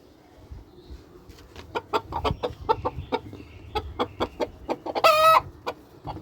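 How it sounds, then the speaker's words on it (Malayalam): A red junglefowl-type rooster clucks in a quick series of short, close calls, rising into a brief louder squawk near the end over faint background noise. "എൻ്റെ അടുത്തുള്ള റെഡ് ജംഗിൾ പെട്ടൊരു സെവൻ കളർ പൂവൻ കോഴിയാണിത്"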